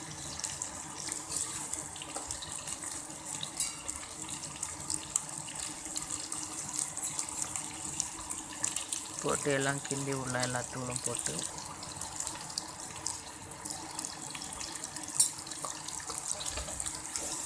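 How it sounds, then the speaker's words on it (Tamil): Water is poured into a pot of garden-vegetable sambar, a steady splashing stream running throughout at moderate level while a person talks over it. "காய்கள்லாம் முழுகிற அளவுக்கு தண்ணி ஊற்றிக்கலாம்"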